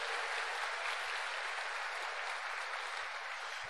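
A church congregation applauds during a Portuguese-language sermon, giving a dense, steady wash of clapping that holds at an even level throughout with no individual claps standing out.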